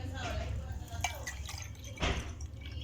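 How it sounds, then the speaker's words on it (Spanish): Water is poured into a transparent drinking glass, with soft splashing and a few dripping plinks over a low background hum. "en el vaso vertimos el agua"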